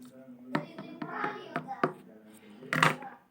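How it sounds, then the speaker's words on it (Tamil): Paper being cut while making a paper flower, with a series of sharp snips and taps close by, unevenly spaced over a few seconds, and faint handling noise between them. "இந்த மடக்கிக்கிட்டு இந்த பக்கத்தை கட் பண்ணிடலாம்."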